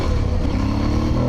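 Aprilia Tuareg Rally adventure motorcycle engine while riding on the road, a loud, steady, rumbling drone close by with wind noise, continuous and without pauses.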